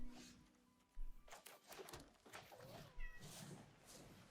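A house cat meows a few times, soft and somewhat distant, the short rising calls standing alone over a quiet room background.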